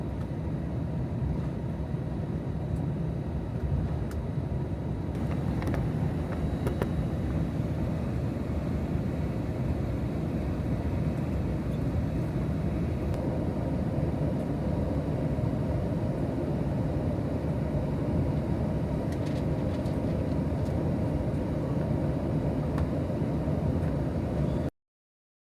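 Delta airliner cabin while taxiing to the gate after landing, a steady low engine and rolling drone with faint rattles, continuous and even throughout.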